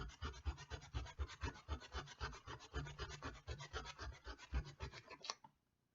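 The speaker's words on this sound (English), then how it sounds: "so I'm going to keep going with the sandpaper." Sandpaper scrubbing off vulcanized rubber glue, a steady close rasping back-and-forth rub in quick repeated strokes that stops abruptly.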